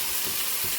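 Food sizzling in a hot frying pan before salt and turmeric go in, a brief, steady, close crackle with no voices.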